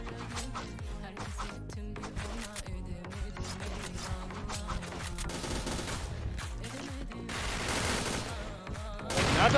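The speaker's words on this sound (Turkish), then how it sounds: "Bomba patladı." Explosions and rapid gunfire from the Point Blank shooter video game, dense bursts of shots followed by a louder blast near the end, loud and continuous with no talk.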